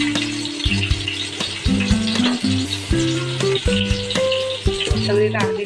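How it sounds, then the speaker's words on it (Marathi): Stuffed bitter gourds being added one by one to hot oil and frying, with a bright sizzle that runs under louder background music. "आता एक एक करून सगळे कारले तेलात टाकायचे"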